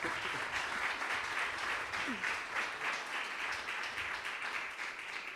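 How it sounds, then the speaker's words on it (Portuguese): A church congregation breaking into sustained applause, many hands clapping in an even, moderately distant wash that holds steady throughout with a faint murmur of voices underneath. "o pessoal dá um aplauso para Jesus."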